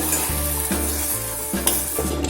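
Onions with turmeric and salt stirred in a pan, with a steady sizzle and a few scraping strokes of the spoon against the metal, close and alone.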